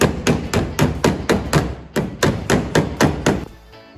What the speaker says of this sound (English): I'll just put a hammer behind here and keep tapping it on this side